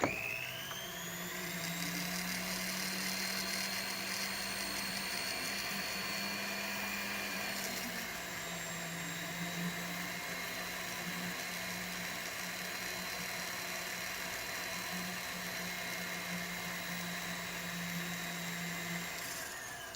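Foredom rotary tool spinning a toothpick loaded with platinum blue compound to polish jewelry, a faint steady high whine with a shifting pitch as the motor speed changes, heard alone.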